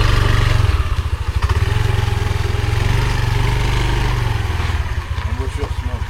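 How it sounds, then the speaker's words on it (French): Scooter engine idling, in Thailand, a close, loud, low putter with a steady rhythmic pulse throughout, briefly revving, with a person talking over it. "Je peux démarrer mon scooter."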